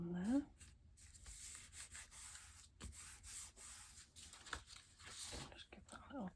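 Something being stuck down and rubbed flat by hand, with soft, intermittent rubbing and scraping strokes in short bursts, quiet and close, separated by brief pauses.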